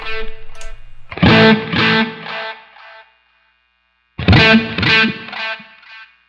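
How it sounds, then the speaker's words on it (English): Distorted electric guitar through a Line 6 Helix stereo sweep echo plays two short phrases, each note trailing into shimmering, wavering modulated echoes, with a pause of silence between them. "the sweep echo is basically a stereo echo where we can modulate the echoes in a lot of different ways"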